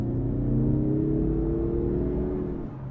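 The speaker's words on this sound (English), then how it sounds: "That's when this turbo really feels fast." A 2021 Mazda3 AWD with a turbo engine accelerating, a smooth rising engine hum heard from inside the car, steady and moderately loud, easing off slightly at the end.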